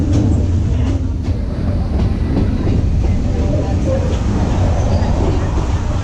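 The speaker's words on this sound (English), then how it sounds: "So we're just riding on the train." An amusement park train ride at Cedar Point rolls along steadily with a constant rumbling, rattling hum and faint clatter throughout, heard from on board with no break.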